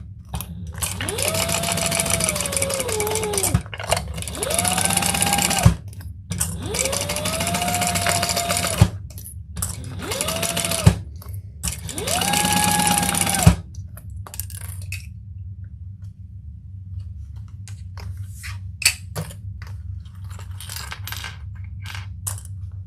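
Sewing machine basting leather at a long stitch length, running in four whirring bursts with rising and falling pitch separated by short pauses, then quieter clicks and handling noise.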